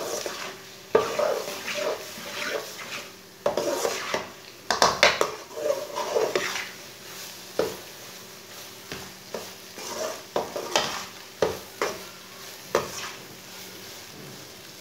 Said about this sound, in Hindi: तीन मिनट तक मैंने भून लिया है।